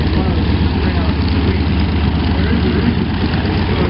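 A light aircraft engine at a fly-in at Evans Head drones steadily and loudly while the plane turns around on the ground, a low throbbing hum with no pauses.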